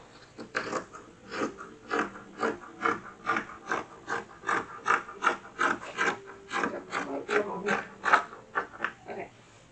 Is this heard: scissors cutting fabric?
yes